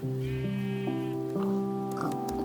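Sheep in the Minecraft video game give a string of three or four steady, tonal bleats in quick succession, clear and close.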